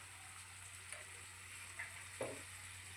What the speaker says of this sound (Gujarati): વઘાર કરશું